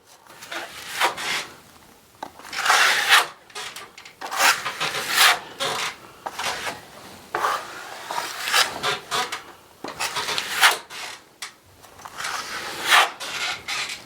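Trowel drawing Caparol roll-on plaster across Alsecco fibre fleece on a wall, a close, steady rasping scrape in repeated strokes of varying length, each swelling and fading, with no voices.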